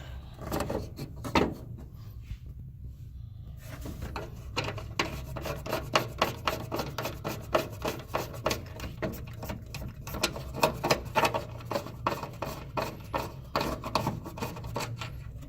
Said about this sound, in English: it was in the hole and it had a nut on it, and we just unscrewed it so we can take out the entire emergency stop